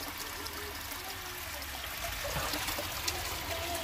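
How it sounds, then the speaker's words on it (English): Water from a waterfall trickles and splashes steadily into a backyard fish pond, a constant close bright stream with no break. "Got the waterfall."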